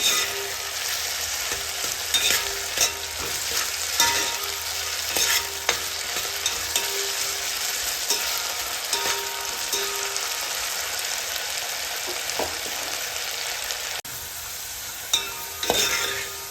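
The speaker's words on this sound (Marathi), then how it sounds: "3 ते 4 मिनिटं लागतील आपला हा बटाटा शिजायला" Raw potato pieces fry steadily in a hot pan for sabudana khichdi, a continuous close sizzle broken by occasional spatula scrapes and stirring clinks.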